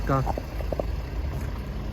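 A 2006 Mercedes-Benz ML 320 CDI 4Matic with a 3.0-litre V6 diesel idles, a steady low engine hum, with someone talking briefly at the start.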